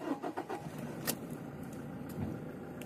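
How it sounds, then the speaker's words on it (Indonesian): A car engine cranks and catches with the clutch pressed, during a driving lesson in an empty lot, then settles into a steady low idle rumble, close by with no talk. "Nah, ini mobil sudah menyala."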